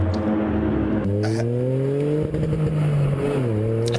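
A Japanese car's engine revs up and settles, a loud close drone rising in pitch in two climbs with a brief dip between, heard alone with some mechanical clatter.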